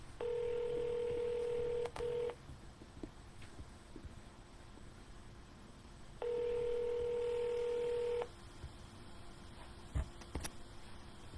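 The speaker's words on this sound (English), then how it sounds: "You should be able to hear the phone ringing." Telephone keypad dialing as a cold call to a real estate listing lead is placed, two bursts of steady two-tone DTMF tones, each about two seconds long, heard clearly with a faint line hum between them and no talking.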